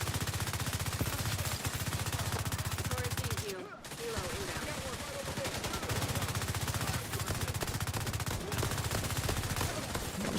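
Sustained rapid automatic gunfire in The Division 2, dense repeated shots with a brief pause partway through, loud and steady, with a voice faintly underneath at times.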